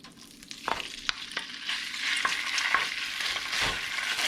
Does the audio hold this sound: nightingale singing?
no